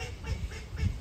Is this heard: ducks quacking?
yes